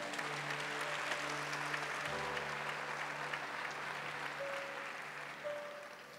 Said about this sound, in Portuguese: pode aplaudir esse irmão que está aí do seu lado.